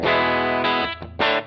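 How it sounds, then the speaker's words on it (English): Electric guitar run through an Axe-FX III AC30 preset tone-matched to a Benson Chimera amp, strummed loud and distorted with rich sustaining chords, three strikes with a brief dip between, no talk. "AC30 and the tone match of the Benson Chimera that I made."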